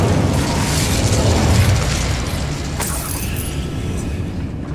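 Incendio fire spell cast in a wizarding video game: a booming burst of flame swells at once, then crackles and rumbles on steadily, with a brief sharper flare midway.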